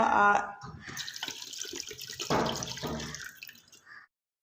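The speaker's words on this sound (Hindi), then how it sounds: "मैं इसमें तकरीबन 1 गिलास पानी शामिल करूँगी" Water poured from a glass into a pot of mutton biryani, a splashing, gurgling pour lasting a few seconds over someone speaking, ending abruptly in silence.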